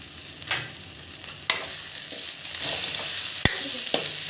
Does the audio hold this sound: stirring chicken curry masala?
yes